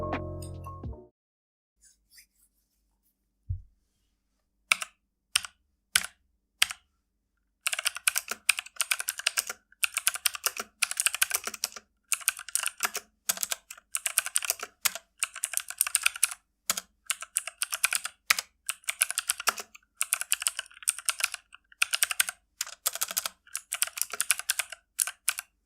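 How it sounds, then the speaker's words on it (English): Typing on a Genesis Thor 300 mechanical keyboard with blue switches: after a few isolated clicks, a long run of crisp, rapid keystrokes clatters close up, with brief pauses between bursts. "it's basically time to hear the sound of these blue switches"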